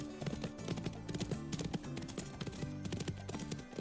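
Horse hooves clip-clopping steadily while a rider goes at a brisk pace in a stable arena, loud and close, a rhythmic beat that continues throughout, with no talk.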